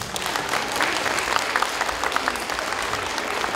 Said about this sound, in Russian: Аплодисменты им!